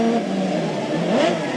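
A 2002 Cadillac American Le Mans Series prototype race car accelerates out of a corner, its engine note climbing through a gear and rising again, loud and steady with no voices.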